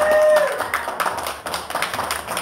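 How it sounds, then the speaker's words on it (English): A crowd at a business networking event breaks into a short round of applause. The clapping is scattered and uneven, starts just after a brief tone, and stays under some background voices for a couple of seconds. "Give yourself a round of applause"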